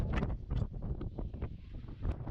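Strong gusty wind at the summit of Scafell Pike, roaring and buffeting a nearby microphone in loud, uneven surges, with no voices.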